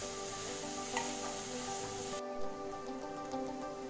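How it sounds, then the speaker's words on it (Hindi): Two spoonfuls each of ginger and garlic cook in a pan for Schezwan tadka, making a faint, steady background sizzle with a soft, constant hiss and a few quiet ticks, far off and without voices. "2 चम्मच अदरक डाला है हमने, 2 चम्मच लहसुन। अब दोनों को हम अच्छे से पका लेंगे।"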